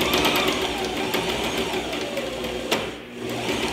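Sewing machine stitching down one side of a buttonhole, a close, rapid mechanical rattle of the needle running steadily with a brief slowdown near the end.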